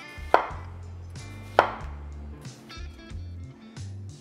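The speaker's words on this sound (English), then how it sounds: "I'm gonna cut up some onions." Onion being cut on a cutting board: two sharp knife chops stand out near the start, followed by softer, quicker cutting sounds, close and clear, with no talking.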